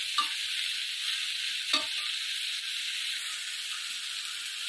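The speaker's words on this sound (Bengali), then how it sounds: "এইভাবে নাড়তে থাকবো।" Water lily stems fry uncovered over medium heat for a hilsa fish head dish, giving an even, close, hissing sizzle with a couple of brief spatula scrapes as they are stirred.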